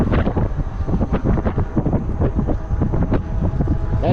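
Wind rushes loudly past a microphone while riding an e-bike at about 20 miles per hour on pedal assist, a constant buffeting roar with no voices.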